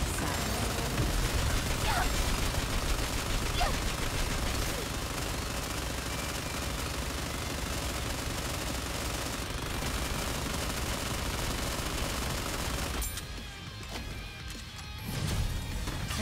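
Dense, continuous rapid gunfire and blasts from the shooter game Goddess of Victory: NIKKE roar loudly with little pause, briefly thinning out near the end before a final surge.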